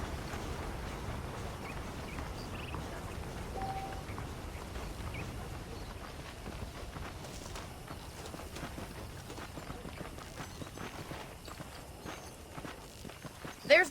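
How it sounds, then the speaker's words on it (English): Horse hooves clip-clop steadily on the ground in Red Dead Redemption, a continuous walking rhythm at moderate level over a busy ambient bed of outdoor game noise. "The horses are saddled up over here."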